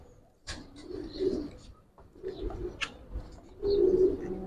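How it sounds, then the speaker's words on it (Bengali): A male Sabchila Giribaj pigeon coos close by in a few low, throaty bursts spaced across a few seconds, with faint bird chirps in the background. "সাবচিলা এটা একটা নর কবুতর"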